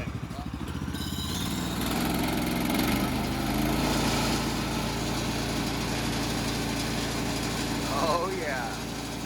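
A small gasoline engine on a homestead bandsaw mill starts up and settles into a steady buzzing run, loud and close, with brief voices at the start.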